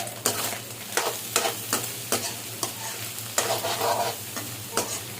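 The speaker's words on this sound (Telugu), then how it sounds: "అలాగే ఒక ఆనియన్, చిల్లీస్ వేసుకొని ఫ్రై చేసుకోవాలి" Onion and chillies fry in a pan with a constant close sizzle under a low hum, broken by a series of sharp scraping stirs of a spatula at irregular intervals, with no voices.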